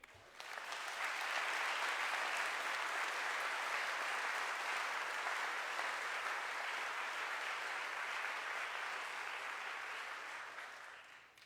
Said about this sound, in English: can we please give another round of applause for this amazing family?